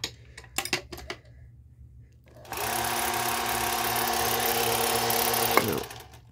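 Singer 431G sewing machine on a low-voltage motor stitching denim, a few clicks and knocks first, then a steady whirring mechanical hum with fast rhythmic clatter from the feed mechanism for about three seconds before stopping.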